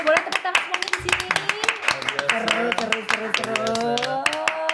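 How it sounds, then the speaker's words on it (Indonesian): An audience claps in scattered, uneven bursts through a musical backing with voices, the sharp hand strikes mixing with sustained tones. "Boleh tepuk tangan semuanya di sini."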